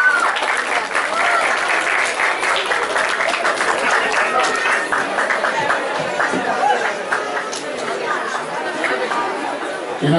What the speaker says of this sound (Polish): bardzo proszę o duże brawa dla Magdaleny Klimek za zajęcie za udział.